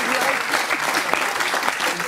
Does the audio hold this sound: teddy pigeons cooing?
no